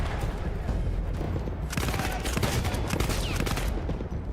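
Rapid gunfire in the video game Battlefield 1, a dense continuous burst of overlapping shots that stays loud and busy throughout.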